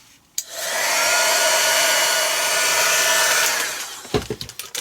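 Craft heat tool or dryer blowing on a paperclip set for a junk journal, a loud steady whoosh that starts abruptly, runs about three seconds and cuts off, followed by small handling knocks.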